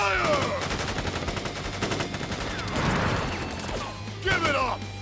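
Video game gunfire from Final Fantasy 7 Crisis Core Reunion rattles in rapid volleys of repeated shots. The bursts are loud and dense and blend with battle effects and voiced dialogue.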